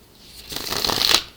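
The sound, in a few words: shuffling a deck of cards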